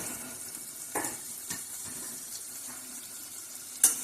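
Tomatoes, coriander and onion with dal in a pan give a faint, hissing sizzle with a few soft stirring scrapes, quiet and close, with no one talking.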